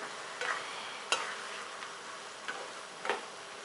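Thai coconut milk with mung beans is stirred in a pot for a bua loy dessert, with faint, soft scraping taps from the spoon every second or so over a quiet bubbling background.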